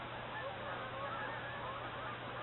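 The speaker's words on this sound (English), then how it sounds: "there are a whole lot of geese flying over" A flock of geese honks continuously in the distance as they pass overhead at Point Pelee, their calls faint over a constant low background hum.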